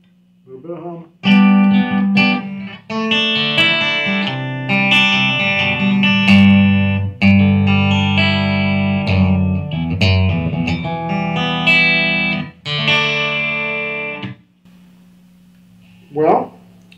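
A Valiant Jupiter Mola electric guitar played through its single coil pickup rings out in a string of strummed chords and sustained notes with a slight hum underneath, then fades, with a short plucked note near the end.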